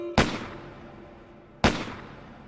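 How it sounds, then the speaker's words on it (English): Two sharp revolver shots ring out about a second and a half apart, each a loud crack with a long fading reverberant tail, as if in a large hall, with no voices. "broken suddenly by 2 shots."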